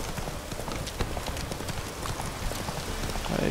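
Horse hooves clip-clop in The Witcher 3: Wild Hunt, a steady rhythmic trot of repeated hoof strikes, fairly close and continuous, with soft rain-like patter and game ambience behind.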